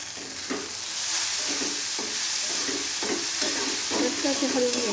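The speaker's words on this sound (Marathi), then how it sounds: "मस्त असे हलवून घ्यायचे." Spring onion greens stir-fried in a pan with a little salt, a steady bright sizzle under repeated scraping stirs of a spatula, close and fairly loud with no talking.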